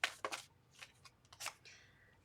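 Brief riffling bursts of tarot cards being shuffled, a few quick flurries close by with short pauses between, no talking.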